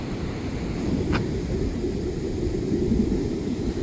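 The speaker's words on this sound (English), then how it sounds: "The waves are coming up to those rocks, and with some of those waves being pretty big coming in" Big ocean waves surge against rocks on the Oregon coast, a loud, steady roar of surf with a constant low rumble and hiss throughout, and no voices.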